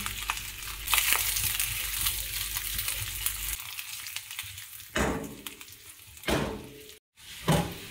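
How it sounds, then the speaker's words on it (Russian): Potato pieces sizzling and crackling in a pan with a little oil, a steady frying hiss that gives way to a few louder stirring scrapes and clatters. "Обжариваю сначала картофель на небольшом количестве масла до золотистой корочки"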